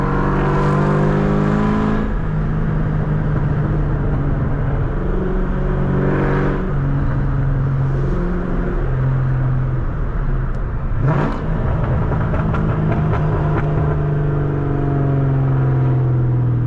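A Cobra car fitted with new headers roars close and loud, its engine note climbing and dropping through several downshifts with sharp rev blips, without talking.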